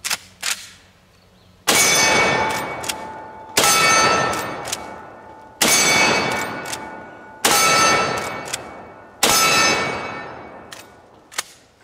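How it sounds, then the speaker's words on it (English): A Henry all-weather lever action .45-70 rifle fires five loud, sharp shots at a steel target, spaced about two seconds apart, each blast trailing off in a ringing echo before the next. "So I have a Henry all-weather lever action 4570 with 5 rounds in there. I'm gonna put them on that piece of steel"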